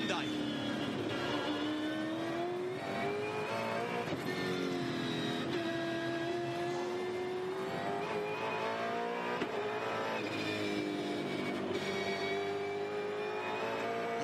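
A V8 Supercar race car at Albert Park, its engine droning steadily and loudly with rising and falling pitch through smooth gear shifts, under a commentator's voice.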